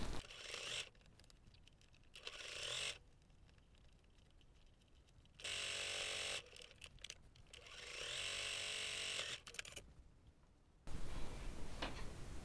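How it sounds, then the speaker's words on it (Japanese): A sewing machine topstitches around the edge of a fabric bag made with fusible batting. It runs in several short bursts of fast, buzzing stitching, separated by brief quieter pauses, and is heard close up without talk. "返し口を閉じながらぐるっと一周端ミシンしておきます。"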